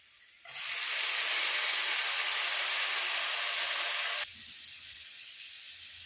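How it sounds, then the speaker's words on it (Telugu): Onions and beans frying for a bean and moong dal curry hiss loudly and steadily in a hot pan, swelling up abruptly and then dropping to a quieter sizzle. "ఆనియన్స్ అయితే వేగుతున్నాయి ఇప్పుడు బీన్స్ కూడా వేసేసుకున్నాం"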